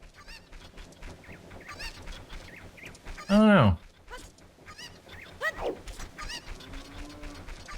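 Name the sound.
chickens clucking in the video game Zelda: Ocarina of Time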